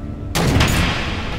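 Missile launch in the Batman: The Enemy Within video game, a sudden loud burst of roaring, crackling blast noise that holds steady and dense for about a second after a brief quiet lead-in.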